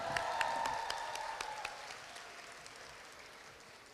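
Audience applause at a Korea University graduation ceremony for a six-week summer program, with a few sharp claps standing out early before the clapping thins and fades over the last seconds.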